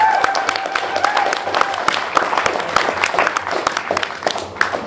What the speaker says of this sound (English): they deserve a real round of applause for that